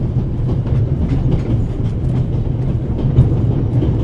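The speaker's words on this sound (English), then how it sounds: "train began in Paris and ends in Istanbul as usual" A steady rhythmic clatter of a train running on rails in a video game, with a passenger carriage, coal tender and engine on a Paris-to-Istanbul line, loud and continuous throughout with no talking.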